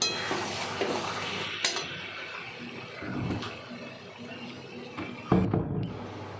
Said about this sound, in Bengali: আবার একটু নেড়ে চেড়ে আরেকবার একটু ঢেকে দিলাম।